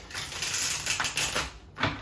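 Rapid papery riffling and flicking of tarot cards being shuffled, close and crisp, with a couple of distinct bursts.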